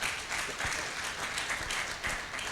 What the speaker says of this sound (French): On les applaudit très fortement